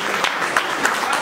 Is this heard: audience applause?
yes